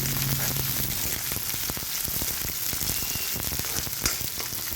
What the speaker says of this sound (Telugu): ఆయిల్ వేసుకొని కరివేపాకు కూడా వేసేసుకొని మంచిగా ఫ్రై చేసుకోవాలి.